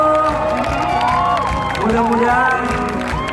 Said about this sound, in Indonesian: Sekali lagi, tepuk tangan yang paling meriah untuk JIExpo.